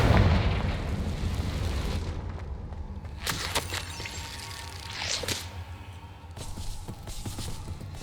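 The Confringo fire spell bursts in Hogwarts Legacy with a heavy rumbling blast and crackling debris, followed by sharp bright cracks and pops that fade into a lingering low rumble.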